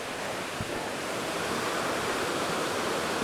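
Burgess Falls waterfall in a Tennessee state park, heard as a steady, broad rushing roar of falling water from a distance, constant and unbroken with no voices over it.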